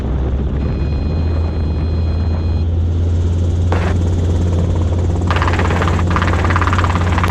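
A Robinson R22 helicopter in flight during a commercial training flight, heard from inside the cabin as a loud, steady rotor and engine drone with a brief whine and a few short bursts of added noise, no talking.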